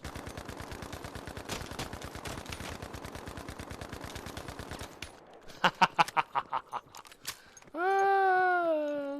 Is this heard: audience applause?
no